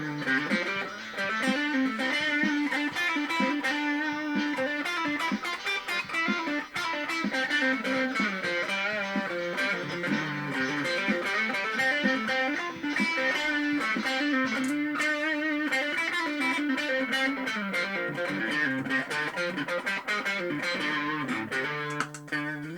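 Electric guitar, a Coiladder Strat with its neck pickup in hum-cancelling mode, played through effects with a driven, slightly distorted tone, continuous melodic lines and chords up close with no talking.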